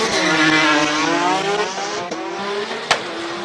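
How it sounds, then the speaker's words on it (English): A 2JZ-powered Subaru race car takes a chicane at a King of the Mountain event in Cape Town, its engine loud and close, rising and falling through revs, with a sharp pop near the end. "You're watching the 2JZ powered Subaru take on the chicane"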